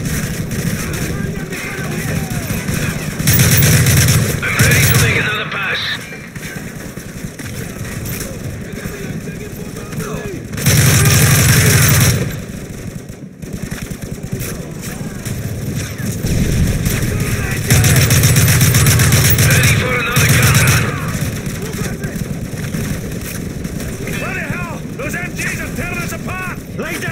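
Strafing run in Call of Duty: Modern Warfare 3 with a steady roaring engine-like rumble, punctuated by several loud blocks of heavy gunfire and explosive bursts, mixed under intermittent dialogue.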